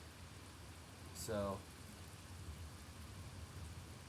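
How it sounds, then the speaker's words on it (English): Heavy rain pours down during a strong thunderstorm with high wind gusts in Sioux Falls, South Dakota, a steady broadband hiss throughout, with a brief spoken word near the middle. "still heavy rain downpours"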